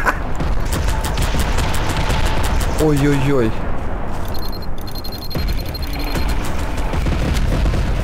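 Bombs exploding in the Garry's Mod video game, a dense run of booming blasts and gunfire-like bangs throughout, with a voice exclaiming over the explosions.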